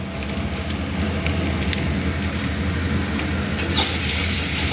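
Spice masala with Kashmiri chili powder frying and being stirred, a steady dense sizzle with occasional scraping strokes and one louder scrape near the end, close and loud, without voices.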